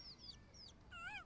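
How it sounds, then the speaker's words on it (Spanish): A newborn chick in the video game The Sims 4 gives a few high, thin cheeps, quiet and short, with faint ambient noise and no talk. "El pollito recién nacido."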